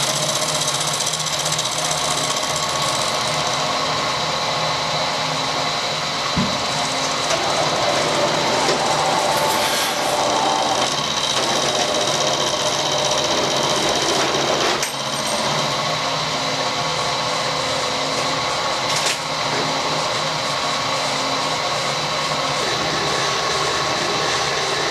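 An inlet manifold from a Volvo is welded with a machine, giving a loud, continuous buzzing and crackling hum that runs steadily for the whole stretch with only brief changes.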